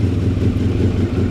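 A Honda NR750 oval-piston motorcycle engine with a custom titanium exhaust runs at a steady idle, a deep, throaty low rumble that stays loud, close and even throughout.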